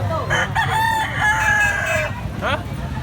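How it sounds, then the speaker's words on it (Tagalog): A gamecock with blue legs crows loudly and close, a long drawn-out call with a shorter crow near the end, over a busy murmur of background noise. "Manok ni Buyaks Kabilyara, guwapo."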